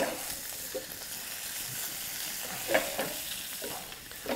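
Strips of bacon frying undisturbed in a pan, a steady broadband sizzle with a few brief louder crackles and pops, close and continuous with no talking.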